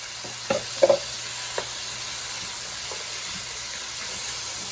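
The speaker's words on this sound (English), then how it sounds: "you're just gonna saute the whole thing and mix the whole thing together" Zucchini sautéing in a pan for a keto dish in creamy cheese sauce, giving a steady low sizzle with a few soft stirring clinks and scrapes near the start, no voices.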